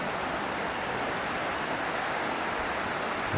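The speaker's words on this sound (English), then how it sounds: "That's a fast flowing river," A fast-flowing river, risen high after flooding, rushes past in a continuous, broad, roaring wash close by, steady in level without pauses.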